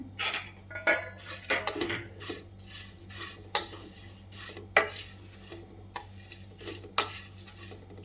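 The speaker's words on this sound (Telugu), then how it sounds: "ఓకే, దీన్ని ఇప్పుడు మనము డ్రై రోస్ట్ చేసుకుందాం" Poha mixture ingredients with dried red chilies are dry-roasted in a pan, heard as rhythmic close scrapes and clatters of a spatula against the metal with a faint dry rustle and no talk.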